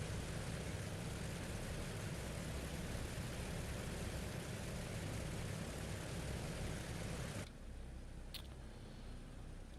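A cold aircraft engine running on a mail plane, a loud steady broadband roar that holds and then drops abruptly to a quieter hum near the end.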